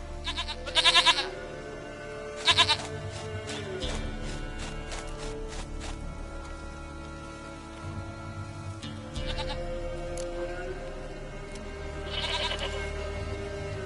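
A goat bleats in The Witcher 3: two loud, wavering bleats close together near the start and another near the end, over a soft musical and ambient game backdrop.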